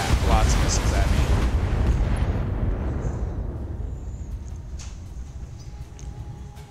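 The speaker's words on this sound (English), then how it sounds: "When I blow it up, all the turrets are going to explode." A turret generator blowing up in the video game Fallout, a heavy rumbling blast that starts loud and slowly fades into a long decaying roar, with a voice talking over it.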